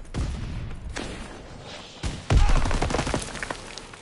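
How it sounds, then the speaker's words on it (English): Shotgun blasts ring out in a World War II Call of Duty multiplayer match, several sharp loud booms spaced irregularly amid scattered gunfire and thuds, close and punchy. "you're all playing with shotguns"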